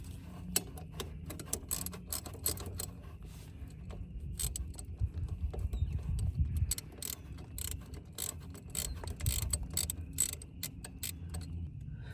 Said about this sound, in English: we're going to take these bolts right here off